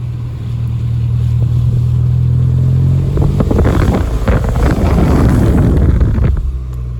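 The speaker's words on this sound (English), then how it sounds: "put it in third gear around here and just spool up the turbo so you can hear it well" A Mini Cooper S with a very short intake, pulling in third gear with the window down: a loud engine drone rising as the turbo spools, then a rougher whooshing surge mixed with heavy wind rush.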